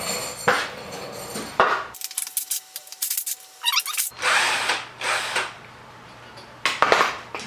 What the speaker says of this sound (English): I'm going to remove the tensioner down here.